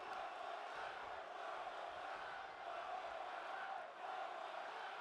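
A wrestling crowd at a live indoor show shouts and cheers continuously in a dense, loud roar. Voices swell and dip slightly throughout.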